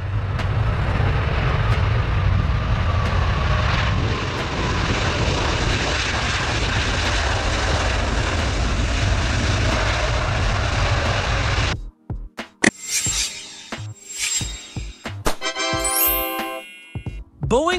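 Airbus Beluga cargo aircraft engines roar loud and steady for about twelve seconds, then cut off abruptly, leaving faint scattered clicks and tones.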